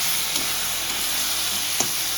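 Food sizzling steadily in a pan while making shol fish jhol, a Bengali snakehead fish curry, a constant close hiss with a couple of faint soft clicks and no talking.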